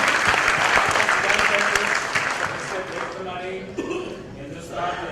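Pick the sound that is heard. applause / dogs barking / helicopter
applause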